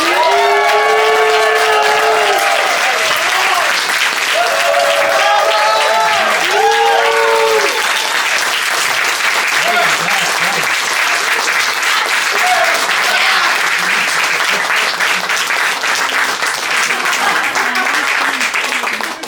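A comedy roast audience bursts into loud, sustained applause with some cheering for comedian Lee Turner Kodak, a continuous dense clapping that fills the room for nearly twenty seconds, with a voice briefly audible early on.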